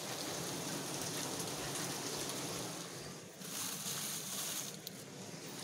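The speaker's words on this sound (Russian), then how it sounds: "Питерское, дождливое." Rain falls on a rainy Saint Petersburg morning, a dense, steady patter on surfaces that stays even and continuous, close by and fairly soft, with no voices.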